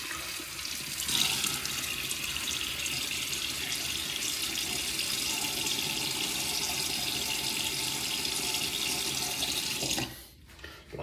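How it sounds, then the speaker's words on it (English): Steady tap water runs into a sink for about ten seconds while a man wets his face before a bay rum shave, a close, even rush that cuts off abruptly near the end. "Anyway, let me get my face wet."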